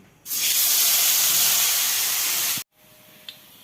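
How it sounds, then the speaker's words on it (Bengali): Fish frying in hot oil for a Bengali fish chorchori: a loud, even sizzling hiss begins suddenly, holds steady for about two seconds, then stops abruptly, leaving faint room noise and a small tap. "তো মাছগুলো ভেজে ফেলি"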